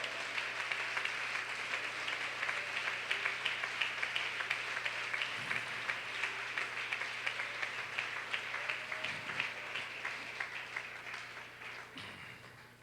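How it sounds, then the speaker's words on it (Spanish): A church congregation applauds for a long stretch in a steady, rhythmic patter of many hands, with a low hum underneath and a gradual tapering near the end. "Un aplauso al nombre de Jesús de Nazaret."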